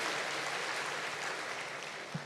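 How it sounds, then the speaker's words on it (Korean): A church congregation applauding a young piano accompanist during a Sunday service: a short, steady patter of many hands clapping at moderate loudness. "우리 김민정 학생 청년 우리 박수해 주시기 바랍니다"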